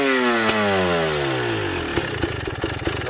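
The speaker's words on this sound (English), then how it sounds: "Electric start." A GasGas EC300 two-stroke dirt bike starts on its electric starter, a whirring crank that rises in pitch, then the engine catches into a sharp, rapid popping idle close by.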